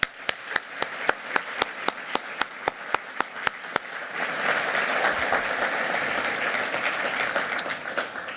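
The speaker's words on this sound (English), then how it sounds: "Let's give us all a round of applause." At a family business awards ceremony, a few evenly spaced single claps ring out sharply, then a full audience joins in with sustained, dense applause that carries steadily to the end.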